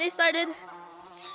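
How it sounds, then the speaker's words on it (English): Buzzing bees in the video game Gorilla Tag, a brief insect drone rising into a couple of louder swells before settling into a steady hum, with a voice speaking briefly over it. "I'm gonna activate the bees."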